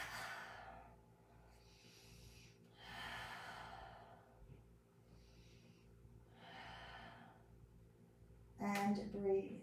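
Several deep, slow cleansing breaths taken during a stretching session, each long airy exhale rising and fading at a calm, close but soft level, with brief talk near the end.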